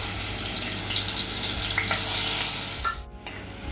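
Cinnamon and cardamom sizzle and crackle in hot oil in a pan for mutton biryani, a steady close frying hiss with a few stirring scrapes, easing off near the end.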